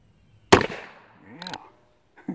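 A Ruger Single Six .22 LR revolver fires once at a 25-yard, 8-inch steel swinger target outdoors: one sharp, loud crack with a short fading tail, then a brief voiced sound and a faint click.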